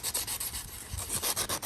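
A spark plug is sanded with 120-grit sandpaper in quick, close, rhythmic rasping strokes, each rub a short gritty scratch repeating steadily with no voices.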